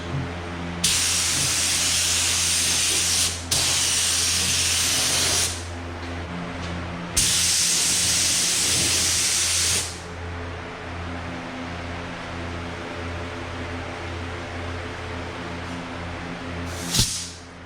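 Spray gun applying epoxy primer to Ford Mustang sheet metal, loud close bursts of hissing spray in several long passes separated by short pauses, over a steady low background hum, with no talking.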